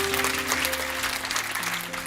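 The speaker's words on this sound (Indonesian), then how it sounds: "Tepuk tangan." Church congregation clapping during a sermon, a brief dense burst of applause over a sustained musical backing.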